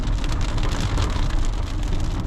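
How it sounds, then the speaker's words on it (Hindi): Steady dense rain drums on the roof and glass of a moving car during a downpour, a continuous loud broadband patter with no voices. "अभी आप देख रहे होंगे कि बारिश शुरू हो चुकी है"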